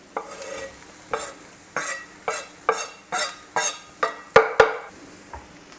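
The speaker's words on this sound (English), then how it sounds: "We're adding our parsley into our frying pan." Parsley and onions in a frying pan, stirred with a utensil: about ten regular scraping strokes against the pan over a soft sizzle, close and fairly loud, with no talking.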